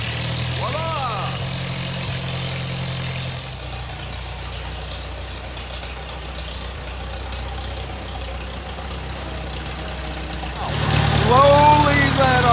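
A small engine idles steadily after being started with the clutch in and throttle about halfway, a continuous low hum across the whole stretch, with people talking over it and a louder burst of voices near the end.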